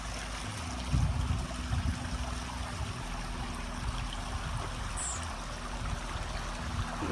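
A small garden waterfall runs in a steady, soft wash of trickling water, with a couple of slightly louder splashes near the start, otherwise even and faint throughout.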